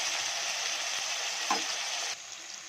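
Finely chopped onions sizzle and crackle steadily in hot oil for a dhaba-style taro root curry, close up, with a brief scrape of stirring before the frying noise quiets slightly.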